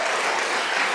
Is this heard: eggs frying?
no